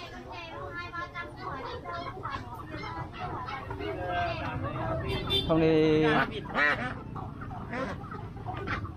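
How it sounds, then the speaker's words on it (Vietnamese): Chickens cluck at the poultry stalls of a market-day crowd in Phục Hoà, Cao Bằng, mixed into busy crowd chatter while people talk nearby. "Đây là hàng gà, hàng vịt."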